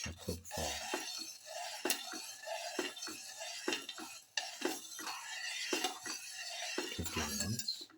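Soaked rice being mixed in a casserole pot, with a spoon scraping, stirring and clinking against the pan in irregular strokes, close but fairly soft, with no talk.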